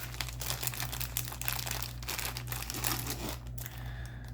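A Ziploc baggie full of small items crinkles and rustles as it is handled, a close, continuous plastic crackle over a low steady hum.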